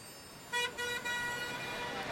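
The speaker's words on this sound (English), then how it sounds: "Sounds of cars honking jarred me awake." Car horns toot in short bursts, two or three overlapping honks rising over a steady background hum, moderately loud and fairly close, as on a city street heard from indoors.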